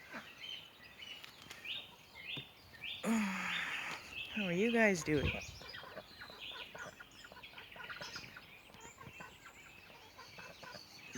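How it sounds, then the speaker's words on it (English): Ducks in a home garden quack and chatter loudly for a few seconds in the middle, then fade under a voice talking nearby. "Those are the ducks."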